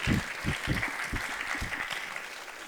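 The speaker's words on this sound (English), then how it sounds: "Okay, guys, clap for them." An auditorium audience claps for improv comedians on stage, a dense, steady burst of applause that starts strong and gradually softens, with no talking over it.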